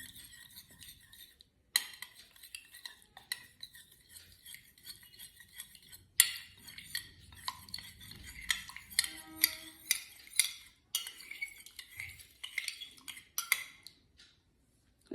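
Something is stirred into a dichloromethane solution in laboratory glassware, giving repeated light clinks and scraping taps against the glass that come in irregular bursts, close and fairly quiet, with no talking.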